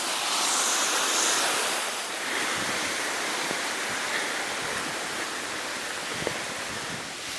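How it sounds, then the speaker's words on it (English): Rushing water roars steadily like a waterfall by a railway culvert on the E&N Railway, a continuous broadband hiss with faint scattered knocks, loudest at the start. "Oh yeah, the waterfall."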